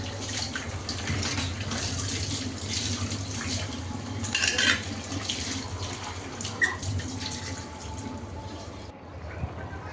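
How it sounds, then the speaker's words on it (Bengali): Plates and bowls are washed under running water in a home kitchen while lunch cooks, a continuous splashing stream from the tap mixed with clinks and clatters of dishes, fairly close and moderately loud. "টুকিটাকি কিছু থালাবাটি হয়েছে, এগুলো এখন ধুয়ে নিচ্ছি"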